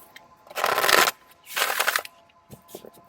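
Thick, matte, lightweight oracle cards shuffled by hand in two long riffling bursts followed by a few lighter flicks, close and crisp.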